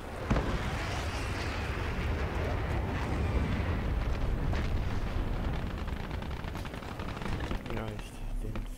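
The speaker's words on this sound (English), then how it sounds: "Fire support in the way." Fire support explosions in a video game, a loud rolling barrage of blasts and crackling gunfire that continues for several seconds and thins out near the end, with a voice speaking underneath.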